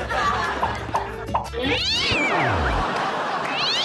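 A voice imitates a cat, giving a drawn-out, wavering meow over a noisy background of music and crowd chatter.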